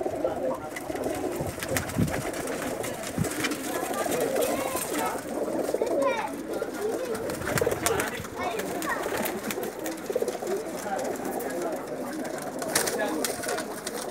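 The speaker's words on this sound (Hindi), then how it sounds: "ये तमाम के तमाम टैडी कबूतर हैं।" Teddy pigeons coo softly and repeatedly amid a busy background of rustling, flapping and scattered chatter.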